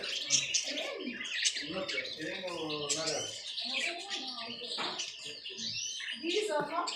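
Caged birds in a bird shop chirp and tweet busily in a dense, overlapping chorus of short calls and trills, close by, with people talking in the background.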